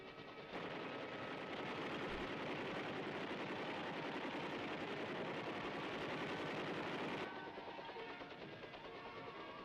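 Sustained machine gun fire from Huey helicopter gunships over a firing range, a dense continuous rattle lasting about seven seconds before cutting off, with a steady rotor-like drone underneath.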